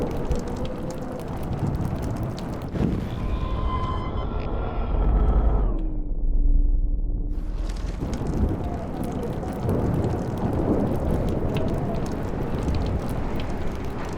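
Thunderstorm in the game Life Is Strange, a steady roar of wind and pouring rain with a deep rumble swelling midway as the higher noise briefly drops out, while a voice speaks over the storm.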